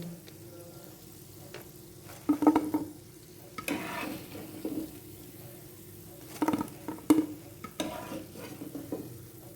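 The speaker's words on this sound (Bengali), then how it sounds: "বড়াগুলো এইভাবে গোল্ডেন করে ভেজে তুলে নিচ্ছি" Lentil fritters for doi bora deep-frying golden in hot oil, a soft bubbling sizzle broken by bursts of louder crackling and spoon scrapes as they are turned.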